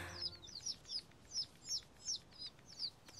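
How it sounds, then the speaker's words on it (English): Animated ducklings give about eight quick, high, thin peeping calls in a steady rhythm, faint and alone without any talk. "Quack, quack. You're just the cutest duckling. Nice quacking, Benjamin."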